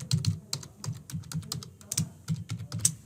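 Computer keyboard keys tapped in a quick, uneven run of close, crisp clicks, like a password being typed, with short pauses between bursts.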